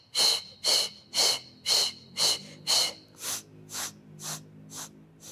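Forceful, audible breaths during a Pilates workout with weights, about a dozen rhythmic huffs close to the microphone, growing gradually softer toward the end.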